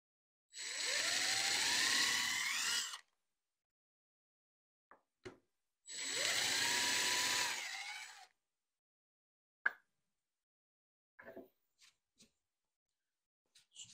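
An impact driver whirs loudly in two bursts of about two seconds each, driving a screw into pantry doors, separated by silence, followed by a few sharp clicks and knocks.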